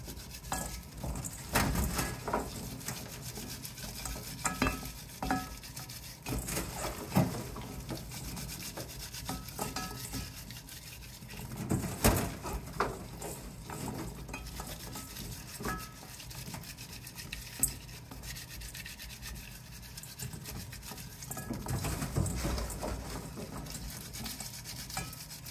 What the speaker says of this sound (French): une fois que vous avez fini de frotter vos edamame avec le sel